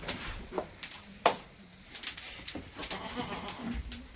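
A large, heavy goat bleats a few times at moderate distance against a faint outdoor background, with a soft voice briefly audible.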